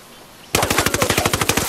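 Automatic gunfire in the Ghost Recon Wildlands video game erupts after a brief quiet moment, a loud, close, rapid string of evenly spaced shots that continues steadily to the end.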